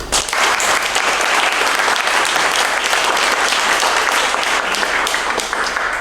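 A crowd applauds loudly and steadily, dense clapping filling the whole stretch without a break.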